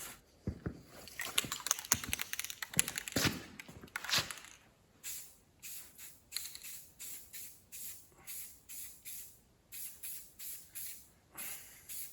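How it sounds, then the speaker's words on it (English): Spray paint can hissing onto antique power hacksaw parts hung on hooks and wires, in a dense run of rapid bursts followed by evenly spaced, steady short sprays, close and alone. "hang it all on hooks and wires and start to spray bomb"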